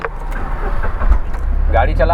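A Tata Nano car is driven, its small engine humming low and steady from inside the cabin, with light rattles and a brief clatter near the end, while someone speaks over it.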